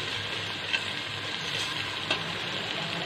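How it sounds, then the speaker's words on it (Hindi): Yogurt going into sizzling masala in a pan for seekh kabab biryani, a steady moderate hiss with a couple of faint clicks. "अब इसमें जाएगी दही"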